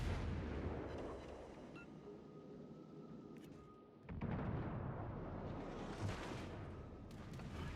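Shells strike a warship in World of Warships Legends, heavy booming impacts and rumbling explosions rolling over a loud background of engine and sea noise, with a sharp burst near the middle followed by sustained roar.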